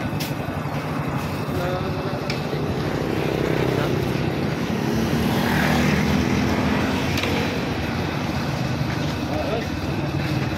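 A Honda NS160 FI motorcycle engine runs steadily with a raspy mechanical clatter in a workshop setting, while people talk over it throughout.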